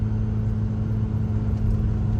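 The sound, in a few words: car engine revving, not at full throttle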